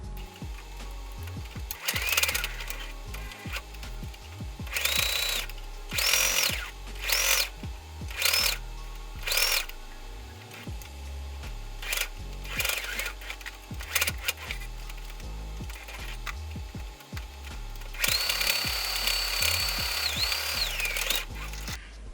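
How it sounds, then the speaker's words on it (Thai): A sewing machine stitches around a fabric bottle bag in repeated short runs of rapid mechanical whirring, stopping and starting with brief pauses and a longer burst at the end, with no voices. "จากนั้นเราก็จะนำไปเย็บทับรอบชิ้นงานเลยค่ะ"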